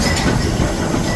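Steam locomotive 6532 Blue Peter rolls into Carlisle station hauling its special train, with a steady loud rumble of wheels and carriages passing close by.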